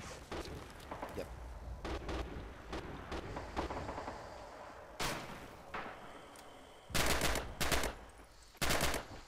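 Bursts of MP40 submachine gun fire in the Stalingrad-set World War II game Red Orchestra 2, loud rapid rattling volleys with sharp cracks and pauses between, heard close amid other battle noise.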